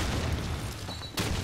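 Grenade explosions in Call of Duty 2 boom through a continuous low rumble of game noise, with a sharp burst near the end, loud and close.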